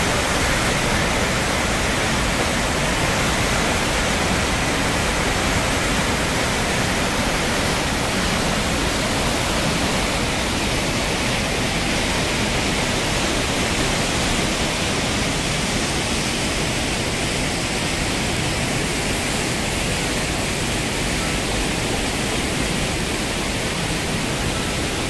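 Water at the Gajoldoba Teesta Barrage pours down with great force, a constant broad roar of rushing water, loud and unbroken, with no voices over it.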